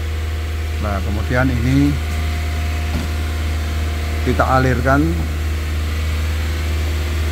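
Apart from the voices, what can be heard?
car engine running at 2000 rpm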